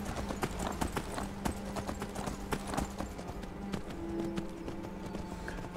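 Horse hooves clip-clop steadily as a rider travels on horseback in the video game Skyrim, a fast, continuous rhythmic pounding of hoofbeats against a faint background of ambient game sound.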